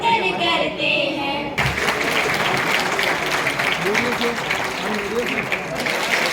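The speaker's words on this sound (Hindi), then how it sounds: "मंच पर जो तालियों की गड़गड़ाहट मुझे सुनाई दे रही है वो काफी नहीं है" Audience applause at a morning cultural performance by children on an outdoor stage in Tehri during a December event, a steady, dense clapping that continues throughout after a brief opening of stage music and singing.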